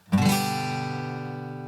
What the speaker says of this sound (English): Just give all 6 strings a good downstroke strum.